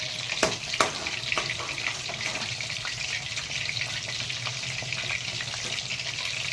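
Chicken lollipops deep-fry in oil, a soft, even bubbling sizzle running throughout with a couple of faint clicks near the start and no voices.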